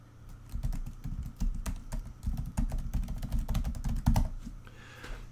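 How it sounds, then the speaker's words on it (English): Rapid, irregular clicks of a computer keyboard as a username is typed, close and distinct, alone without talk, slowing at the end. "then you can type in your username and then the name of the machine"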